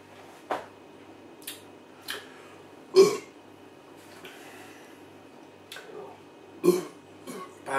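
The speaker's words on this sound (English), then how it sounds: "My burping actually spoiled that taste" Short burps while tasting Durham Brewery's Bombay 106 beer, several brief, fairly close throaty bursts scattered across a quiet room with small clicks between them.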